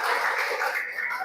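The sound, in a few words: applause for students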